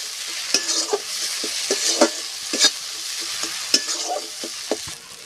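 Ingredients for a spicy crab curry are fried and stirred in a pan, with a steady sizzle of hot oil broken by repeated close scraping and clattering of the spoon at an uneven rhythm.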